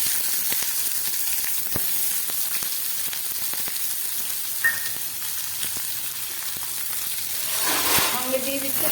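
Chopped onion sizzles steadily in a hot pan for a Kabuli chickpea curry, a dense close frying hiss broken by scattered crackles and spatula clicks, swelling louder near the end as the onions are stirred.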